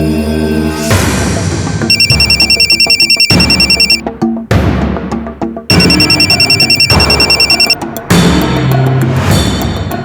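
A telephone rings over and over in loud, bright electronic bursts, with a brief gap between rings and no one picking up.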